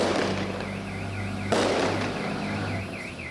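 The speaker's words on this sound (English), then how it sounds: "They seemed to be fireworks in celebration of some event." Celebratory fireworks go off in the Ming dynasty village of Dangjiacun near Hancheng, China, with a sharp blast midway through a dense crackling wash. A warbling siren-like tone repeats behind it.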